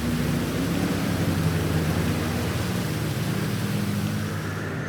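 Steady rain pours in the GTA V game world with a low rumble of thunder beneath it, a constant wash of noise at even loudness throughout.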